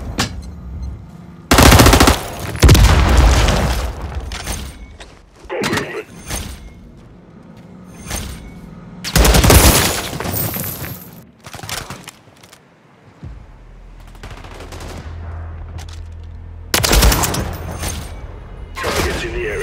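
Rapid automatic fire from a malfunctioning gun in a Call of Duty MW3 free-for-all match, loud bursts coming in several clusters with quieter gaps, over game effects and occasional voices.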